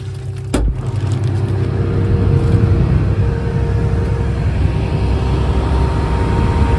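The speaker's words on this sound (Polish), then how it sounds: "z poziomu tych schodków posłuchamy sobie pracy tego silnika" A John Deere T550i combine harvester engine runs with a steady low rumble and faint tonal hum, heard from the machine's steps with the door opened, after a brief click at the start.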